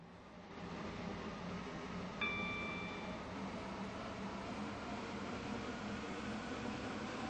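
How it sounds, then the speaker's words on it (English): Inside a Roblox railway game, a train pulls into a station with a steady low rumble and hiss of the carriage. A brief high chime sounds partway through, and the level stays fairly quiet and even. "This train is now approaching Benton Bridge."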